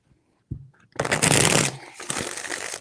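Tarot cards are shuffled by hand, a short soft tap followed by a dense riffling burst, a brief pause and a second quieter riffle, close and clear with no talking.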